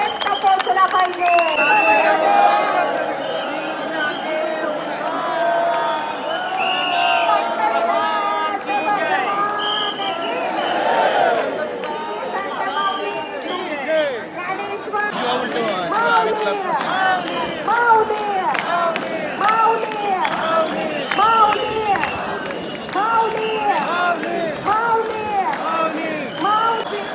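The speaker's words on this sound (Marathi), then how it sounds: "तुम्ही गर्दी बघू शकता आता किती गर्दी आहे" A large crowd of pilgrims at Pandharpur on Ashadhi Ekadashi, a dense continuous murmur of many voices with shouts and chanting rising through it, close and loud throughout.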